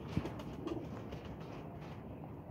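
A pigeon gives a faint, low coo up close, with a brief soft burst at the start and another shortly after, set against quiet background hiss and no talk.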